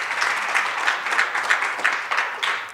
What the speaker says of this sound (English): A warm round of applause to everyone.